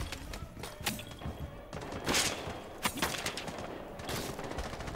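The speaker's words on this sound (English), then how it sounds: "Uh oh, they're shooting already. Someone's shooting." Distant rapid gunfire in the video game Rainbow Six Siege, faint muffled bursts and cracks scattered over a dense, noisy background.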